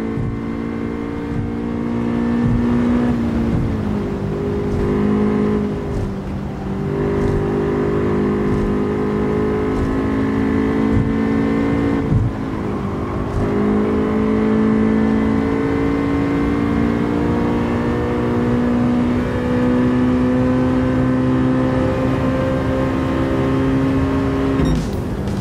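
Racing car engine in Gran Turismo 7 holding a steady, loud harmonic drone that rises and dips with shifts and throttle changes, continuous throughout with no talk.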